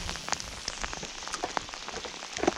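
Heavy rain falls during a fishing trip outdoors, a dense, fairly faint hiss of drops with scattered sharper patters striking nearby surfaces.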